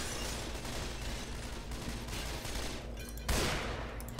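Gunfire in the zombie shooter Left 4 Dead 2 rattles almost without a break, a dense, noisy stream of rapid shots with a louder burst near the end, heard alone.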